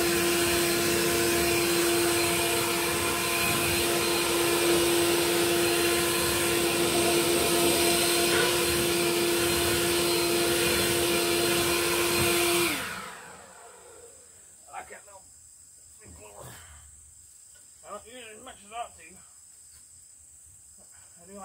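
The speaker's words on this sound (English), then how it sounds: "It's gonna be blowing off the push mower that was buried in the weeds." A blower roars steadily as it clears debris off a push mower that had been buried in weeds, loud and close for about twelve seconds before cutting off, leaving quiet rustles and a few faint sounds.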